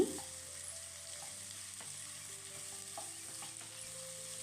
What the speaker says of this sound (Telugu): ఇప్పుడు ఇందులోకి క్యాప్సికమ్ ముక్కలు వేసుకుని ఫ్రై చేసుకోవాలి